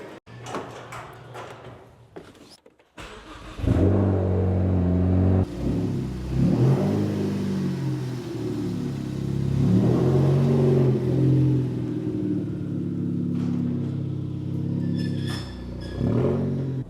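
A car's door thumps shut, then the engine starts and settles into a steady idle that rises and falls with a few light revs. It's close and loud, with no talking.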